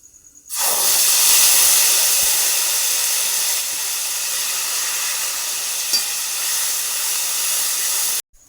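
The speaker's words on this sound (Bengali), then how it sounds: "জিরে ফোড়ন দিয়ে দিচ্ছি জিরে আদা ধনে টমেটো একসঙ্গে" Cumin, ginger, coriander and tomato hit hot oil together with a sudden loud hiss that swells, then settles into a steady sizzle before cutting off abruptly.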